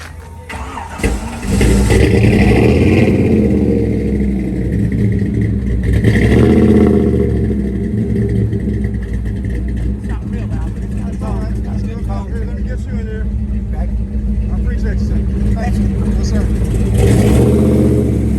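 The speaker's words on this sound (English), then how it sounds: "We're gonna get a cold start on this beautiful Impala" A Chevrolet Impala's engine cold-starts at an outdoor car show, then idles and revs loudly and steadily close by, with people talking over it.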